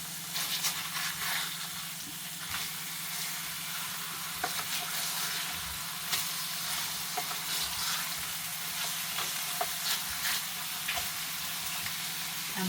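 Burger patties, seasoned with pepper and salt in the style of a homemade Five Guys burger, sizzle steadily in a pan, a continuous close crackling hiss with scattered sharper pops and no talking.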